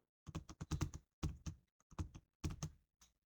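Typing on a computer keyboard during spreadsheet data entry, several quick clusters of close, crisp key clicks separated by short pauses.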